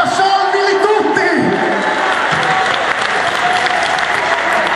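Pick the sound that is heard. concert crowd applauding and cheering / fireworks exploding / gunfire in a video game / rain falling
concert crowd applauding and cheering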